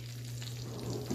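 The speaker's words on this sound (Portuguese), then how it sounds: "aqui na minha frigideira eu tenho já óleo, capuns e fritei rodelas de chouriço" Oil sizzles softly in a frying pan where chorizo slices have been fried, with faint crackles and popping in a low, steady hiss and no voices.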